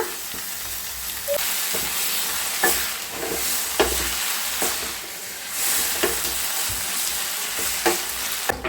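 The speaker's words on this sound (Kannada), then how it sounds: "ಈಗ ಸೊಪ್ಪು ಮತ್ತು ಬೇಳೆ ಏನು ಬೇಯಿಸ್ಕೊಂಡಿರ್ತೀವಿ ಅದನ್ನ ಇದಕ್ಕೆ ಹಾಕಿ ಮಿಕ್ಸ್ ಮಾಡ್ಕೊಳ್ಳೋಣ" Cooked greens and lentils stirred into fried onions in a pan, with a loud close sizzle under repeated scraping and clattering strokes of a spoon through the mix. No one speaks.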